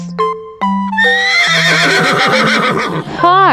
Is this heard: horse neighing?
yes